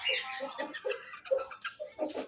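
A rooster and chickens cluck in a village coop, with short bursts of clucks and calls coming close and fairly loud in an uneven rhythm, and no speech.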